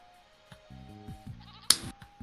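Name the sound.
goats bleating in PV County farming video game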